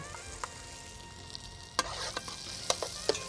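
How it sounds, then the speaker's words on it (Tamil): Ground paste sautéing in lightly melted butter in a pan, with a soft steady sizzle broken by a few sharp spoon clicks and scrapes as it is stirred. "இந்த பச்சை வாசனை போக இதை நல்லா வதக்கணும்"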